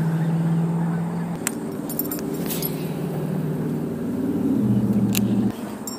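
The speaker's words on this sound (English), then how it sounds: "The swarm of geese." A flock of geese honks near a lake during a fishing outing, several calls rising over a steady low rumble that swells toward the end.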